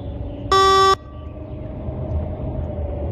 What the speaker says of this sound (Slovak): Môžem trúbiť.